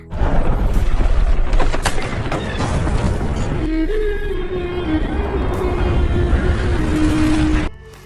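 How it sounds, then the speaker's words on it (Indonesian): A loud, sustained roar of a bomb blast and rumble with crackling debris, followed by a lingering ringing tone before it cuts off abruptly. "yang membuat ledakan dan mengenai mereka bertiga"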